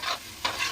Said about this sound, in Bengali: আর এখানে পেঁয়াজ ভাজাটা আমার হয়ে গেছে